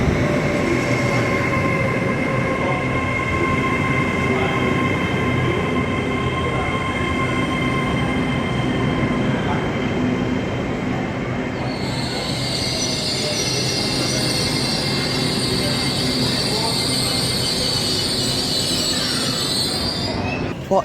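A Class 807 passenger train passes through Milton Keynes Central station on the West Coast Main Line. It rolls through close and loud, with a sustained rumble and wheel noise, and a high metallic squeal rises partway through.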